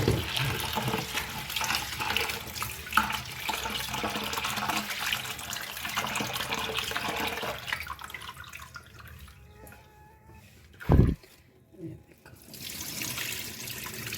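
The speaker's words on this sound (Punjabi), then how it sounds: "ਇਹ ਸਾਰੇ ਛਿਲਕੇ ਇਸ ਤਰ੍ਹਾਂ ਮੈਂ ਧੋ ਧੋ ਕੇ ਨਿਕਾਲ ਲਾਂਗੀ" Tap water runs steadily into a kitchen sink while mung dal is rinsed to wash off its husks. The flow is fairly close, then quietens and ends with a sharp clunk.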